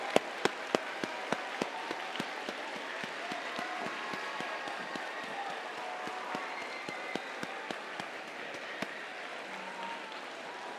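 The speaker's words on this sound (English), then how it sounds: "thank all of your mentors and coaches with an uproarious amount of applause" Students applaud their mentors and coaches at a 2025 FIRST robotics district event in Western New England, a broad, steady wash of crowd clapping that holds for the full stretch and has a few sharper individual claps near the start.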